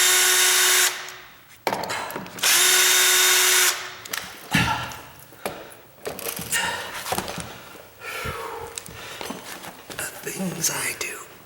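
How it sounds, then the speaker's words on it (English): A cordless power drill drives screws into a sagging door in two loud bursts of steady whirring near the start, then gives short clicks and knocks while a person speaks softly nearby. "I'm going to take those screws and tighten them"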